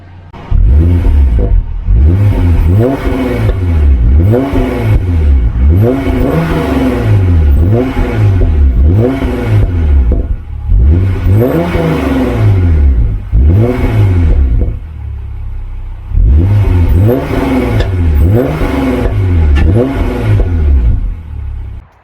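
A Hyundai Genesis Coupe with an ARK downpipe and H-pipe exhaust in race mode revs hard in repeated bursts, rising and falling in pitch with short pauses between each run, close by.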